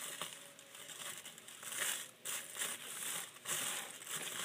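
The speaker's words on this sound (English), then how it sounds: "So I cut little holes in it." Paper bag being snipped with large scissors to cut small holes, giving a steady run of close, crisp crinkling and crunching paper noises with brief pauses, no voices.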